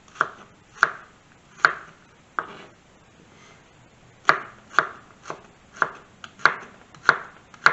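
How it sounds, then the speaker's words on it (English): A knife dices a vegetable on a cutting board for cochinita pibil, giving sharp, separate chops in an uneven rhythm with short pauses, close and fairly loud, with no talking. "Now we're just dicing these up, not too fine, not too coarse."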